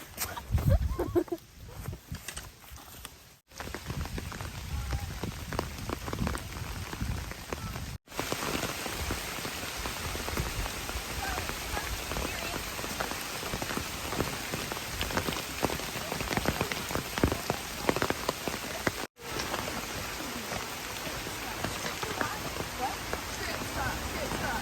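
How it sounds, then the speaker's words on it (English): Steady rain patters on a hiking trail under an interstate overpass in Pennsylvania on the Appalachian Trail, a dense continuous hiss with scattered louder drops, a brief muffled stretch at the start, and faint voices now and then. "All right, a rainy day."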